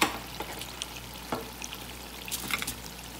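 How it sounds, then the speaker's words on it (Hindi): Chicken and carrots fry in a pan for a vegetable pasta, a continuous close sizzle broken by a few stirring scrapes and clinks. "चिकन और गाजर अच्छी तरह से फ्राई हो गए हैं"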